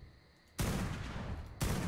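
Gunshots in Ark: Survival Evolved (Primal Fear mod) fired at a jerboa: after a quiet opening, one loud, sharp blast hits at about half a second and rings on, then a second loud shot follows near the end.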